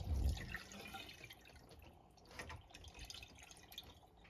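Vinegar draining and dripping off washed raw pork, faint scattered drips and a thin trickle of liquid, close but quiet, after a brief low thump at the start.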